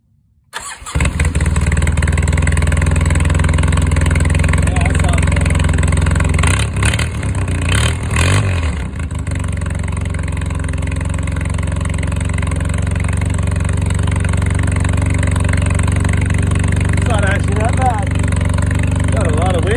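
A Polaris vehicle engine with a modified intake runs steadily and loud after starting, with a couple of rough revving bursts early on before settling into a constant idle drone.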